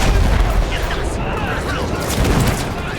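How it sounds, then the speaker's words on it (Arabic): Artillery shelling and gunfire from the Battlefield 1 World War I video game, with heavy booms and rumbling explosions under shouted in-game voices in a dense, continuous battle din. "يتم قصفنا بعنف هنا."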